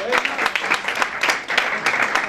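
An audience at a cartoon cover band gathering in Italy claps in a quick, uneven burst of applause with distinct sharp hand claps, loud and close, with crowd voices mixed in.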